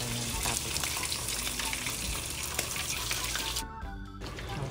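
Pompano fish frying in a pan over a slow fire, a steady close sizzle and crackle of oil running throughout with a brief quieter dip near the end.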